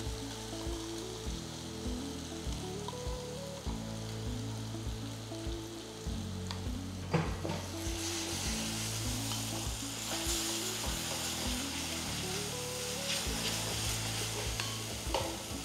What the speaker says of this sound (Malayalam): ഒരു 2-3 മിനിറ്റ് നന്നായിട്ടൊന്ന് സോട്ട് ചെയ്യുക